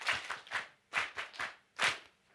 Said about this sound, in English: For God, we clap 3 times.